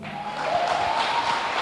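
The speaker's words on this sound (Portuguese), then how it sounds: "Você pode aplaudi-lo?" Church congregation at a service applauding, a steady wash of many hands clapping at moderate distance, continuous through the short moment with a faint sustained tone beneath.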